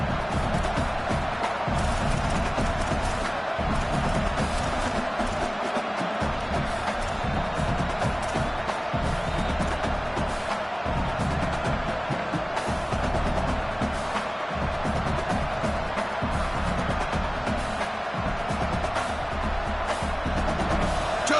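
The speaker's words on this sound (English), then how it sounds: "this home crowd is fired up and ready to make a difference today" A home crowd roars steadily through an American football game, a dense continuous wash of cheering and crowd noise with no breaks.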